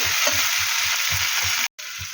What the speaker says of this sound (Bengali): এইবার চিংড়ি মাছগুলো দিয়ে দেবো ভালো একটু নেড়ে